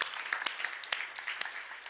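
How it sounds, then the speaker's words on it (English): Audience applause at a live satsang birthday celebration, a steady patter of many hands clapping throughout the two seconds at moderate, even volume, with no talking over it. "Let's give her a very, very, very, very big round of applause."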